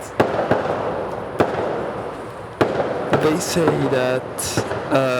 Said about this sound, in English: Sometimes they shoot fireworks